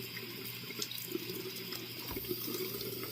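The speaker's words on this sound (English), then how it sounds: "turn the water off" Water runs steadily from a tap into a sink, a constant hissing splash with small clinks, no voices.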